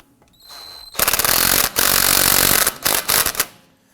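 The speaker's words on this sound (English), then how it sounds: "Let's snug down our axle nut." Power tool snugging down the axle nut on a 2015-2020 Ford F-150 front suspension during a ball joint job: two loud, close bursts of rattling whir separated by brief pauses, then a few short stuttering pulses.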